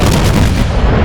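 A single loud, booming salvo from the main guns of the battleship Alabama in a naval video game, a heavy close blast with a rumbling tail filling the moment.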